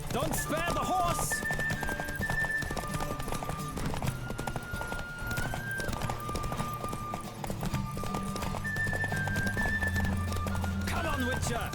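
In The Witcher 3, a horse's hooves pound out a continuous, rhythmic gallop, loud and close under the game's music, with a brief whinny at the start and close.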